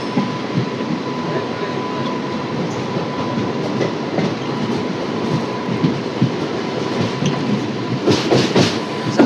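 A train rolls near Virpur station on the Rajkot-Porbandar line, a steady loud rumble of wheels on track throughout, with a thin ringing tone and rising clatter near the end.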